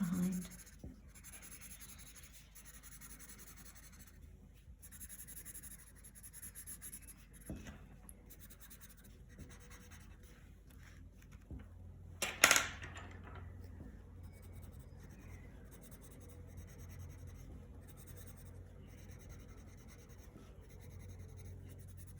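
Colored pencil shading on paper while drawing a fairy house, a quiet, continuous soft scratching and rubbing with a brief louder scrape midway.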